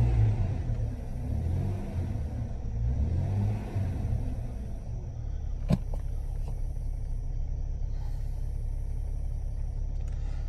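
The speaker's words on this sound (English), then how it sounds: "I'll try to hold this steady. I'll rev it up a little bit." A 2000 Jeep Grand Cherokee engine, after a fan motor and radiator replacement, revs up and holds a steady, loud idle-to-raised drone with a deep rumble, close by and without talk.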